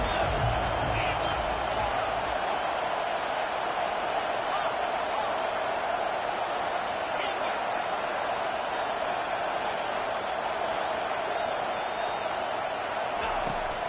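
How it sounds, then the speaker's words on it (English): Simulated stadium crowd from College Football 25 in an Ole Miss vs TCU game, a steady, dense roar that holds at even loudness throughout with no clear breaks or swells. "This crowd trying to make life miserable for this offense."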